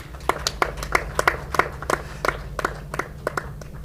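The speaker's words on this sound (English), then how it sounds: "A clap for UNDP." An audience applauds at a devolution conference held at Makueni Boys High School, with distinct, fairly evenly spaced hand claps ringing out in a light, steady rhythm.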